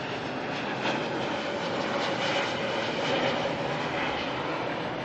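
An airliner, flight NZ102 from Sydney, arrives at Auckland Airport as a continuous, steady broadband engine roar that holds even throughout, distant and without talk.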